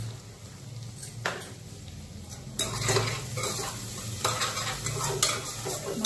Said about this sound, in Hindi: फिर मसाला भून लेते हैं